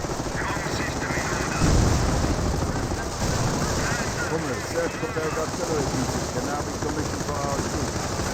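Company of Heroes battle with Panzer Elite forces: continuous machine-gun bursts, cannon shots and explosions under steady commentary, dense and loud.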